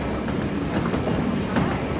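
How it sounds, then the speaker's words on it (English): A train in the DayZ video game rumbles steadily along its rails, with a continuous clattering roll and faint rhythmic wheel clicks throughout. "You're on a train now, mate."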